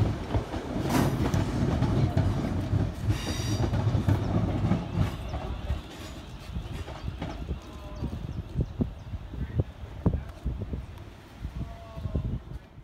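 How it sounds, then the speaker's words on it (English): Transport for Wales diesel multiple unit departing Crewe on a curving line, a close engine rumble fading as the wheels tick and clatter irregularly over rail joints, with a brief squeal near the end. "Another Transport for Wales DMU here, this one going on the line which curves off."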